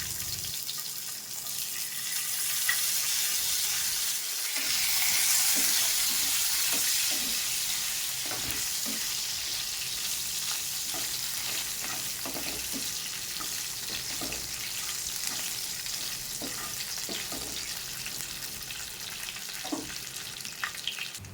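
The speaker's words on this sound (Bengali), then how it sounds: "কাজু আর কিশমিশগুলো দিয়ে একটু ভেজে নেব।" Cashews and raisins frying in a pan for muri ghonto, a steady hissing sizzle with intermittent stirring scrapes and clicks throughout, close and moderately loud.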